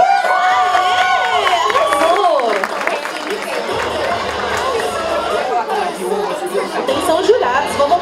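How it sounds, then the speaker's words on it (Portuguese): A crowd at a cosplay parade cheers, shouts and claps, a loud, busy roar of voices and applause throughout, with children shouting among the audience. "Palmas!"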